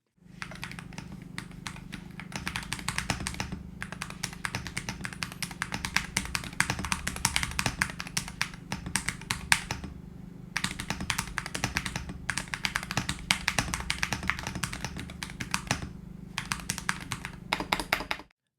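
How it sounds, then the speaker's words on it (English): Steady typing on a Syntech Chronos 68 mechanical keyboard, rapid muted clacks in continuous bursts with a couple of short pauses, close and alone. "the sound is still satisfying for mechanical keyboard lovers"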